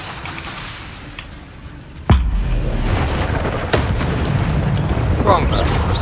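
A Levioso spell cast in Hogwarts Legacy lands as a sudden low boom with a bright whoosh, followed by a rumbling magical hum and a few softer bursts over steady game ambience.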